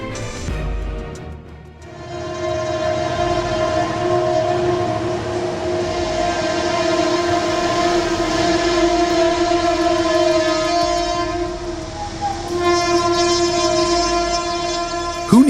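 A train rumbles past close by in torrential rain, its horn blaring in long sustained tones over the roar of the wheels, with no one talking.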